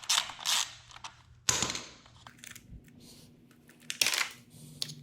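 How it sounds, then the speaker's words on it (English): Wrench clicks and metallic creaks while loosening the 8mm speed sensor bolts on a 2009 Kawasaki ZX6R, a few sharp close clicks and ratchet bursts separated by quiet gaps with faint low hum. "I'm going to unscrew the speed sensor."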